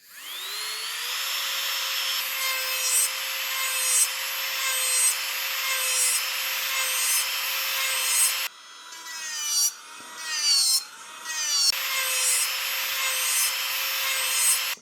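JD 5500 rotary sander running forward at full speed, 35,000 rpm, a high steady whine that dips and rises several times as the bit presses into the work.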